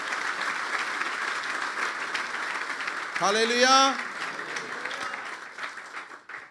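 A crowd claps continuously in dense applause at a church sermon while a voice calls out briefly in Hindi over it.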